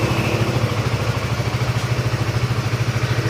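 A 2012 Honda CBR motorcycle with a stock, untouched engine idles close by, its steady rapid pulsing putter running evenly and loudly throughout with a slight mechanical clatter.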